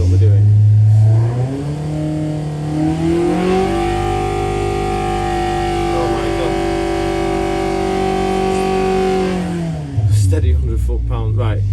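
A Benoy 1200cc engine on a dyno revs up from idle, holds a loud, steady high-rpm drone for several seconds, then drops back down to a lumpy idle.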